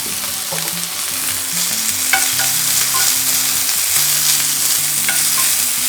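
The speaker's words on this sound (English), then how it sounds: "Just saute them for a few seconds until the flavor comes" Ginger with yellow and green peppers sautéing in olive oil in a pan, giving a steady, close sizzle with light stirring scrapes throughout and soft tonal music underneath.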